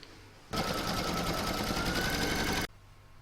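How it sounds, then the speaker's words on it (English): An embroidery machine stitches through fabric on an in-the-hoop oven mitt, a steady loud mechanical whir lasting about two seconds, starting and stopping abruptly with quiet room tone around it. "I'm now going to pop that into my machine and stitch round number 3, and that's going to secure the fabric."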